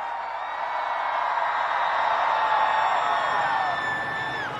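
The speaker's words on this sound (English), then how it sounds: "I want to hear you guys scream as loud as you fucking can" Festival crowd at the Lost Lands 2021 electronic music show screaming together on a count of three, a dense, sustained roar of many voices at a steady loud level for several seconds, with a high synth tone sliding down over it.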